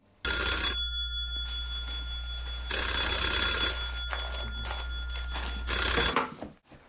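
A telephone rings in a Catalan TV comedy sketch, sounding in about three loud, close bursts of bell-like ringing with short gaps between them and no talking.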